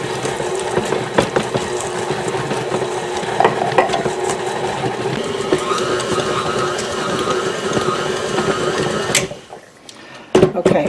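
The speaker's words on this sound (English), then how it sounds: "as these start to get harder to turn, we're going to just get them off the mixing blade" A stand mixer blade churns thick chocolate chip cookie dough loaded with chopped walnuts, making a steady close motor whir with grinding, thumping texture for most of the stretch before it stops near the end, followed by a few handling knocks.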